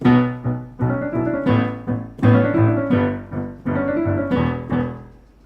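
Piano notes ring out in a steady, rhythmic melody played in octaves, the Chase theme tune, with full, resonant chords sounding clearly and closely and no voices present.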